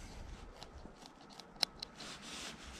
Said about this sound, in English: And then cut down, right down to the stitching line.